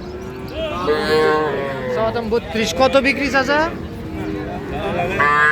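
A calf moos several times, close by, among voices of people talking and bargaining in a busy cattle market.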